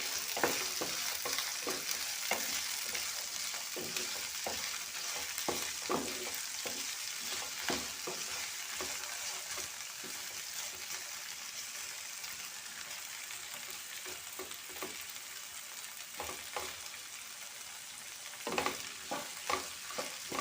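Chopped okra fries in coconut oil with a steady, close sizzle, broken by repeated spatula stirring and scraping strokes against the pan.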